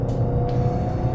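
A muscle car, either a Challenger Hellcat or a Camaro ZL1, powering out of a corner at Willow Springs raceway, its engine a loud, sustained low roar heard from inside the cabin.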